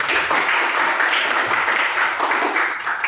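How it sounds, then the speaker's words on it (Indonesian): Steady classroom applause, a dense wash of many hands clapping together at an even level for a few seconds with no clear speech. "Tepuk tangan dulu."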